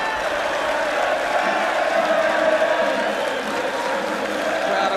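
A football crowd celebrates Argyle's promotion, a loud unbroken wash of cheering, singing and whooping from a packed stand that carries on throughout.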